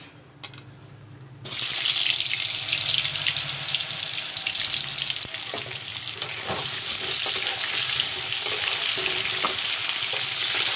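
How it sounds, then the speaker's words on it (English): Green bananas drop into hot oil and set off a loud, continuous sizzling hiss that stays steady and close for the rest of the clip. "Now I will put in the bananas to fry."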